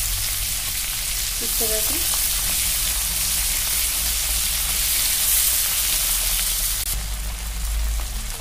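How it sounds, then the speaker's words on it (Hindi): Prawns frying in hot oil in a pan, a loud steady hiss and crackle throughout, close up, with a brief spoken phrase early on. "इधर उधर करके हम दोनों तरफ को फ्राई करेंगे"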